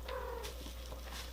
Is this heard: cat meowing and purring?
yes